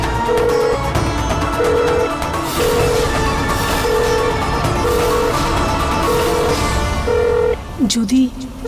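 A telephone being dialed in a Bengali TV drama scene: a steady run of about seven short, evenly spaced electronic beeps sits over a constant background bed, ending with a brief tonal chirp.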